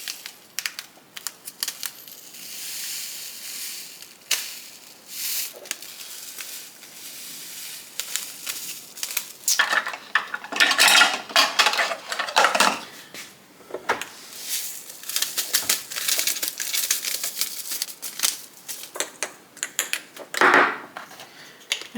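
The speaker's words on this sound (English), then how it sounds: "I'm actually going to fill these up in this glass jar." Dried rosemary poured and scooped into a glass jar in a kitchen, giving an ongoing dry rustle and crackle with scattered light clinks and taps, close and fairly quiet.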